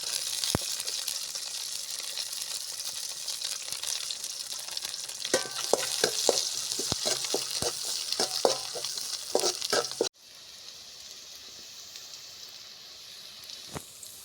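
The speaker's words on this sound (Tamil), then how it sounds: "வெங்காயம் நல்லா வதங்கிடுச்சு." Small shallots sautéing in a pan with oil for rotti kuzhambu, a steady close sizzle and frying hiss with occasional stirring clicks, quieter toward the end.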